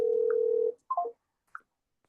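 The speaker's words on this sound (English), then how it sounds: "Why am I hearing the phone?" A telephone tone sounds during a call, starting with a steady low tone that cuts off, then two short electronic blips, faint and with no talking.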